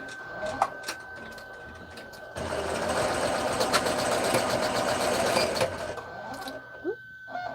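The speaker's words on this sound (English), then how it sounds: "as I said before, it's going to stitch this liner now" A sewing machine stitches a purse liner in one steady, close whirring run of about three seconds, with scattered clicks and handling taps before and after it.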